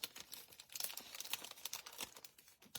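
Paper crinkling and tearing as a folded handmade card swap is opened, a close, continuous busy rustle of crisp crackles and crumples with no talk.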